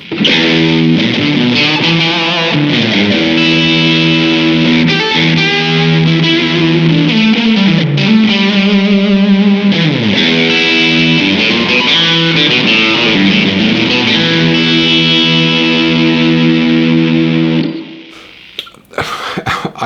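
Distorted electric guitar through a fuzz effect on a Blackstar AMPED 2 amp, playing sustained riffs and chords loudly for most of the clip, then cutting off with a few scrappy noises.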